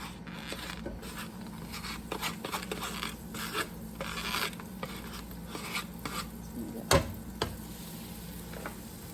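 Butter sizzles and melts in a heated pot for cheesy broccoli soup, a soft crackle broken by irregular scrapes and taps of a utensil and one sharp clack near the end, close and without talk.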